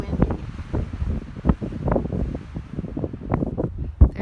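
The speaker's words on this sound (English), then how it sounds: "Again, still really windy." Strong gusts buffet the microphone at a windy rim overlook above a canyon, a continuous low rumbling roar with repeated harder thumps, no voices.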